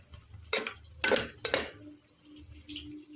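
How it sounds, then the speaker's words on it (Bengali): Grated carrots with ghee, bay leaf and cardamom being stirred and dry-fried in a pan for carrot halwa, heard as three distinct scraping, clinking spoon strokes against the metal over a quiet background, no talk. "তেজপাতা ঘি আর এলাচ দিয়ে আমি ভালো করে এটাকে ভেজে নিচ্ছি শুকনো করে"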